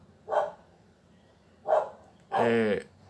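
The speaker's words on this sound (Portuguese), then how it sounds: "o meu cachorro latindo" A dog barks three times nearby, two short separate barks followed by a longer, more drawn-out one, with quiet pauses between.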